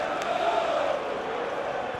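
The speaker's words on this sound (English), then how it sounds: "frustrated Chelsea crowd, urging him to move that ball quickly" Frustrated Chelsea supporters at a League Cup fifth-round football match against Newcastle United make a steady, dense roar that holds an even level throughout, with no single chant or cheer standing out.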